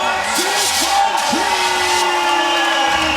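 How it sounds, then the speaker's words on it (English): A large crowd at a women's beach volleyball final in Utrecht roars and cheers loudly and continuously, with whoops and yells rising above it, while a commentator talks over the noise. "Crowd should roar here for Sana Kaiser"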